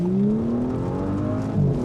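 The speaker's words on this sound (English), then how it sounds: "Listen to that thing rumble, listen to it roar." A 2018 Audi S5 Sportback pulls onto the road in comfort mode, its engine note climbing steadily in pitch as it accelerates hard, loud and close with a rumbling low end and a brief shift near the end.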